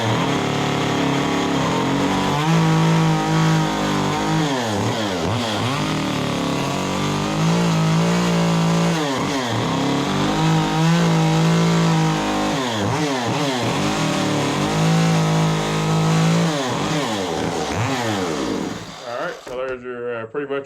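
Chainsaw carving a pumpkin, roughing out the stem area: a loud, close engine that revs up and down in repeated cutting cycles for the whole stretch, then cuts off near the end.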